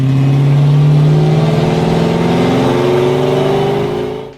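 A Chevrolet Corvette C5's LS1 V8 revs loudly and close, its deep tone climbing steadily for about four seconds before it cuts off abruptly.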